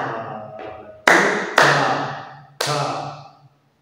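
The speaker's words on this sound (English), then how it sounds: "and we are clapping now." Hands clap a dotted rhythm in a music lesson, four sharp, close claps in an uneven long-short pattern, each ringing briefly in the room.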